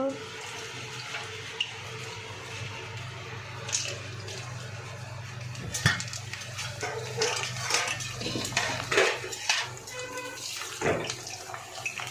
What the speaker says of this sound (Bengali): আমার বোন এদিকে বাসন মাজছে